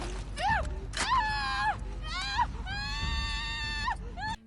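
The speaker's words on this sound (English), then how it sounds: "They scream in agony when you down them." Enemies in The Last of Us Part II scream in agony as they are downed: a string of loud, close, drawn-out pained cries and wails in quick succession over a low rumbling game backdrop.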